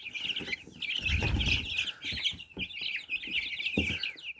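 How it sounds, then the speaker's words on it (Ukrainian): Several chickens cluck and chirp continuously at close range, with soft rustling and a few bumps underneath. "Ось такі гарні курчатка."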